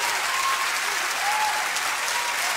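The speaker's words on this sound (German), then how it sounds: "das Publikum beruhigt sich überhaupt gar nicht mehr" A studio audience at a televised dance show finale applauds in a sustained, dense wash of clapping with faint cheering, steady and fairly close.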